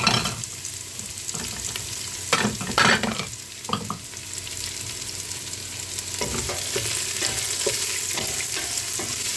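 Garlic and onion frying in a pan at home, a steady close sizzle with scattered stirring scrapes and clatters, no voices.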